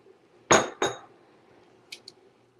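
A spoon stirring a cornstarch slurry in a pot knocks against the metal in two sharp, ringing clinks, followed a moment later by two fainter taps.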